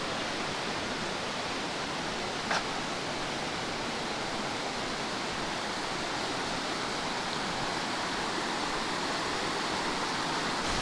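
The Borjomi River in the Georgian spa town of Borjomi flows with a steady, broadband rush of water that holds an even level throughout, with one brief click near the start and no voices.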